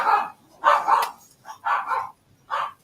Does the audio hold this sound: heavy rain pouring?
no